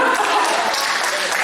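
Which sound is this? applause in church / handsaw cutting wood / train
applause in church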